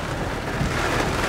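Heavy rain falls during a storm in a steady, loud, broadband roar that fills the whole moment without letup, with no voices.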